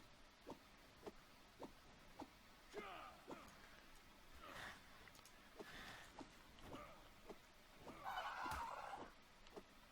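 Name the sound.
birds honking in the video game Ark: Survival Evolved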